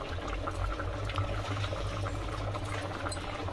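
Spinach dal (palakura pappu) simmering in a pot, a soft continuous bubbling and burbling heard faint and close, steady throughout with no talking.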